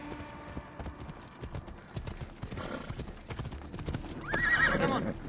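Hooves clip-clop steadily from a horse in the video game Assassin's Creed Odyssey, building to a loud, close neigh near the end over faint ambient game sound.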